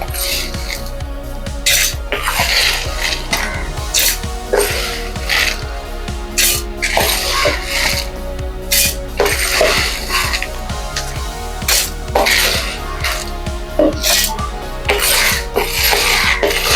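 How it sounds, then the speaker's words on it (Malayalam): A kitchen mixer grinder runs steadily, grinding roasted idli podi ingredients for South Indian spice powder, a loud continuous rasping whir with repeated gritty pulses throughout. "ഇനി നമുക്ക് മിക്സിയിലോട്ട് ഇട്ടൊന്ന് പൊടിച്ചെടുക്കാം"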